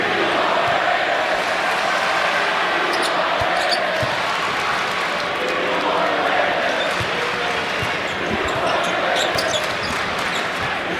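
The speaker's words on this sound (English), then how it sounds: "Are the fans cheering "We want Braden"?" Basketball arena crowd during a Purdue home game against Texas Southern, a steady loud roar of fans with rhythmic chanting running throughout, sneaker squeaks and ball bounces mixed in.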